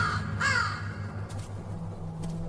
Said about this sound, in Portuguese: o corvo é um oportunista inteligente, que busca animais menores e mais fracos para se alimentar